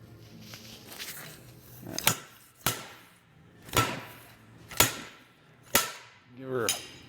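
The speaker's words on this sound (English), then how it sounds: "Give her a few pulls and bam, my seal's out." Seal puller yanking a seal out of an Oliver 1550 PTO gearbox gives six sharp metallic knocks at irregular intervals, close and loud, each ringing briefly against a quiet background.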